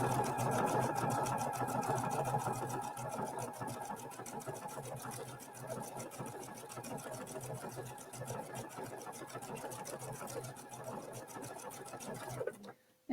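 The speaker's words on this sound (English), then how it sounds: "I'm just going to start stitching" Sewing machine running a decorative stitch, giving a steady fast mechanical chatter of needle strokes that is close and continuous for about twelve seconds before stopping abruptly.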